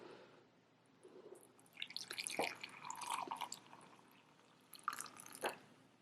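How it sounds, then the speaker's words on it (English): Milk poured over a hot cocoa bomb in a Valentine cup, a soft liquid trickle and splashing that builds in the middle and swells again near the end, close and fairly quiet. "pour the milk on top so we can see"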